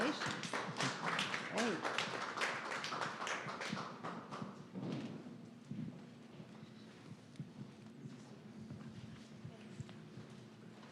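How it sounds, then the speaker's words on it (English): An audience at a community talk event gives a round of applause for presentations: dense clapping for about four seconds, then thinning into scattered claps as a voice speaks briefly and the room settles. "a round of applause for those presentations"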